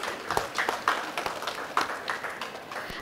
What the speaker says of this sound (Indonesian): Mohon beri tepuk tangan kepada Bapak Mamat dan Ibu Muti.